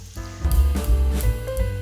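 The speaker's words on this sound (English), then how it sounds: "did you hear that sizzling sound? This shows our oil is hot enough" A steady crackling sizzle of onion frying in hot oil, with occasional pops over a low background rumble.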